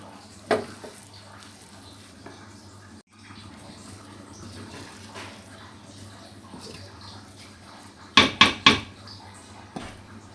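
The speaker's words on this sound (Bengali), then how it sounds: "তো ঢাকনা দিয়ে দিলাম।" A lid goes onto a pot of khichuri in a home kitchen, heard as a quick cluster of three or four close metallic clanks near the end after a soft, steady kitchen background and an earlier single knock.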